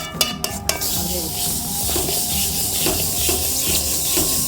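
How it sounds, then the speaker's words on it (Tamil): Sesame seeds dry-roasting in a pan for traditional sesame laddu, starting with a few sharp clinks, then a continuous rustling, scraping stir with light sizzle, close and without speech. "இப்படி கொஞ்சம் கொஞ்சமாக போட்டு வறுத்துக்குவோம்."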